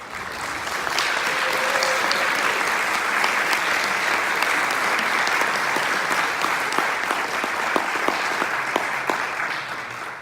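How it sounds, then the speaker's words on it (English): Audience applause for the state Comptroller at a political event, a dense, sustained clapping from a large crowd lasting throughout with a few sharper individual claps standing out near the end. "Give our awesome Comptroller a hand."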